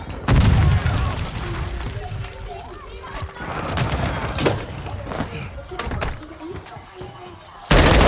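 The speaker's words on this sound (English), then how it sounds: "Semtex incoming." Semtex grenade blast in Call of Duty: Modern Warfare II, a heavy booming explosion up front followed by scattered gunfire and thumps, with voices talking over the combat and another loud boom at the end.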